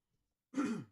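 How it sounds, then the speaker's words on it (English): A single short throat clearing, close and fairly quiet, following a moment of silence. "Sorry, I had to clear my throat."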